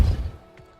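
Depulso repelling spell cast in the Hogwarts Legacy video game: one short, heavy low thump that fades within a third of a second, leaving near silence.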